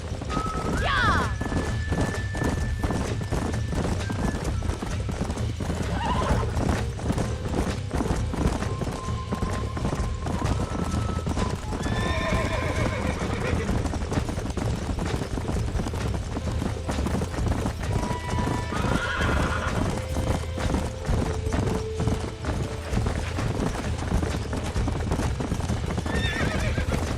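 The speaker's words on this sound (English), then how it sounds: "These are fine horses." Horses whinny and neigh repeatedly over a steady, rapid clatter of hooves in the video game Red Dead Redemption on PS3, with a game-like mix of mechanical background noise throughout.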